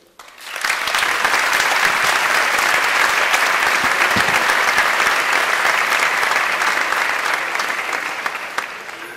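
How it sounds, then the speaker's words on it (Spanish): A graduation ceremony audience breaks into applause, a loud, dense roar of clapping that builds within the first second and holds steady for several seconds before easing slightly at the end. "eu quero pedirvos un aplauso en primeiro lugar para eles."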